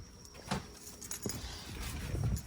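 Car keys jangle in a few short metallic bursts near a 2016 Jetta GLI steering column, close and moderately loud over a low background hum.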